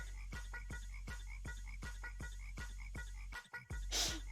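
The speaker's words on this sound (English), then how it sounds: "Ah, yes, the frogs. They're back." Frogs croak in a steady, rhythmic chorus of repeated calls, fairly close and loud, with a brief rustling burst near the end and no talking.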